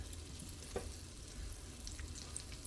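Buttermilk fried chicken, egg-washed and double-dipped, frying in a Lodge cast iron pan, a soft continuous sizzle of hot oil close by with no voices.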